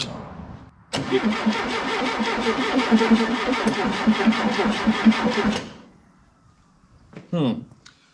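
A classic car engine that had been running off time on the distributor cranks with a fast rhythmic whirring for about four seconds, then winds down into silence without catching. A short voice follows at the end.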